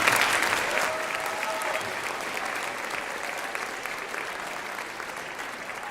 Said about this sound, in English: please give a round of applause for all of their previous teachers